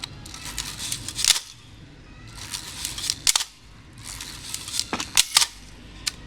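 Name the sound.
Bronica S2 camera shutter firing while winding lever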